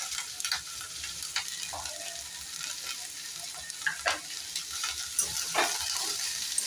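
Capsicum, carrot and cabbage stir-frying for Indian street-style noodle bhel, a steady close sizzle broken by repeated scraping stirs and clicks of the spatula.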